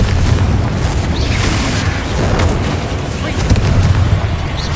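In the Hogwarts Legacy video game, a Confringo spell detonates into a heavy booming explosion with a rumbling low roar and crackling debris, loud and sustained across the moment.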